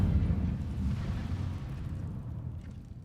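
An Incendio fire spell is cast in the video game Hogwarts Legacy, a low, rumbling fiery burst that rolls on and slowly fades over about three seconds.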